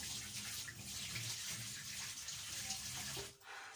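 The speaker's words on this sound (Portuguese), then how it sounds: "Agora eu vou passar as minhas mãos por água" Hands are rinsed under a running kitchen tap, a steady close splashing stream that runs quietly on its own and is cut off near the end.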